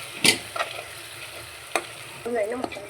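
A spoon stirs egg biryani masala in a pan, with a few distinct scrapes and clacks over a soft, steady sizzle, close by and without talk.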